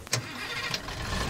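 A truck engine in Far Cry 2 cranks and catches, a brief close starter whirr settling into a rough mid-pitched idle rumble.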